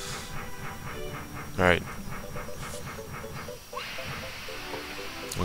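Train ride in the video game Paper Mario, a steady mechanical rumble with repeating rhythmic pulses and a brief whistle-like burst, running under a speaking voice.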